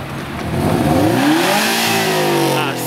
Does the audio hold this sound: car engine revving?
yes